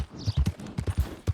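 Hooves clip-clop at a steady walking pace as a horse moves in Red Dead Redemption 2, close and clear, with a faint breathy snort near the start.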